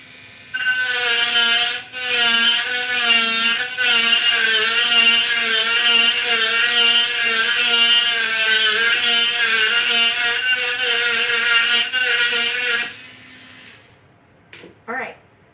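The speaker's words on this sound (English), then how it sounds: "give me a moment to just keep on drilling" A small rotary drill whines steadily at high pitch while boring a hole into an acrylic tumbler, running continuously for about thirteen seconds before stopping.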